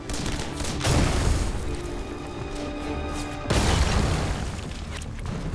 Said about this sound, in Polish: Granat wybucha, rozsiewając zabójcze odłamki, które trafiają w podpułkownika.